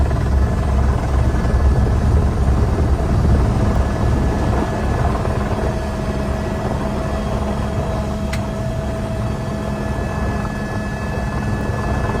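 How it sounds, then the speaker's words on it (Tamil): Helicopters circle over a flash-flood area in Nepal near the Tibet border, giving a continuous low rotor drone that fades slightly and stays steady throughout, with no voices. "வெள்ளத்தின் கோர வேகம் காரணமாக ஹெலிகாப்டர்கள் தரையிறங்க முடியாமல் வானத்திலேயே வட்டமடித்தது"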